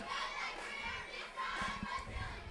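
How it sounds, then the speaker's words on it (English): Cheerleaders and a crowd of students cheer at a middle school football game, with a dense, steady wash of distant young voices shouting together in a stadium. "those cheerleaders are definitely really cheering this time"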